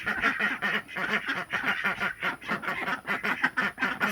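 Ducks quack in a steady, overlapping chorus at a backyard chicken and duck run, a loud rhythmic clamour of repeated calls close by with no talking.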